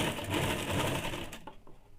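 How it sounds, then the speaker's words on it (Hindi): A sewing machine stitches a half-inch seam on woolen fabric for a baby frock, its rapid, even clatter running steadily, then stopping short with a couple of brief mechanical clicks afterward. "इसे 1/2 इंच पे सिलाई कर देंगे।"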